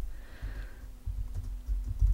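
Keys clatter on a computer keyboard in a short burst of close, light taps and clicks while coding an Objective-C tutorial, alone without talk.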